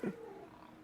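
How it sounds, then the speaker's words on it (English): A pet cat named Carrie gives a short, low, throaty vocal sound, brief and faint, fading into quiet background hum. "that's my cat, Carrie"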